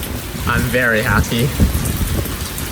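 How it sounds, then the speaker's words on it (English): Heavy rain pours down steadily on a Hawaiian coastal pavilion, a loud, dense hiss with drumming on the roof, while a person speaks briefly over it. "the rain is coming down hard"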